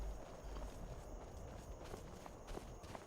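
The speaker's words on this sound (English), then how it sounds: "We got the old horse and cart" Horse and cart clip-clopping at the Windhelm stables in the Skyrim video game, a quiet, steady run of hoof beats over a low ambient bed, no talking.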